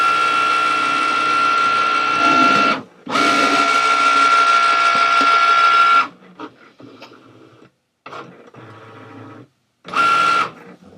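A Cricut Maker cutting machine scans a printed sheet with loud, close mechanical whirring in two long runs, then a series of shorter starts, stops and clicks as the carriage moves.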